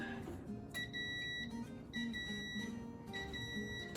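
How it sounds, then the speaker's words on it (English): Three quiet electronic beeps from a toaster oven finishing, evenly spaced, sound over a low room hum. "now the toaster is done. It made those beeping sounds"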